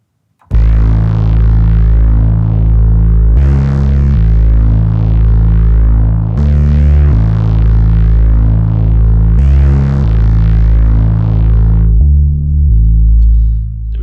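A Generate Noire synthesizer bass patch shaped by the mod wheel plays loud, sustained throbbing low notes in repeating phrases, gritty and distorted, with pitch shifts every few seconds and no talk.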